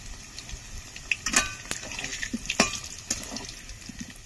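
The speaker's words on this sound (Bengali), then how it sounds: "আলুগুলো ভেজে নেব।" Potato pieces frying in a pan, seasoned with a little salt and turmeric for a village-style chicken and potato curry, giving a soft crackling sizzle with scattered pops and stirring clatters.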